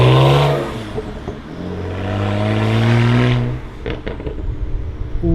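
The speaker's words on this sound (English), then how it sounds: "This is pretty much what it'll sound like if you do the performance exhaust" A BMW 335i with a performance exhaust mod revs hard, the engine note rising and falling loudly up close, followed by crackling bursts of backfire near the end.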